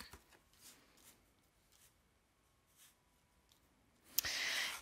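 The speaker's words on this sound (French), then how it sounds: "Carte qui se retourne." A tarot card is turned over on a table: faint scattered taps and paper rustles, then a sharp, close card swish and slide at the end.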